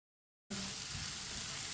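After a brief silence, spices for bhindi fry start frying over low heat, giving a soft, steady hiss of sizzling oil that holds evenly to the end.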